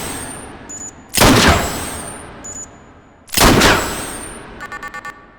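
Two loud, sharp shots from 10mm Swarm Shot shells, a rat-shot-style load, fired in the VR shooting game H3VR, each a sudden close blast that fades out, separated by quiet mechanical clicks and handling noises.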